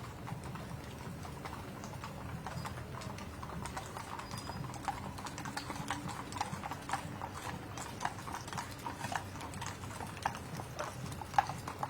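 Horses of a mounted color guard walk along a street in a veterans parade in Lincoln, their hooves giving a steady, fairly faint clip-clop over low outdoor crowd murmur.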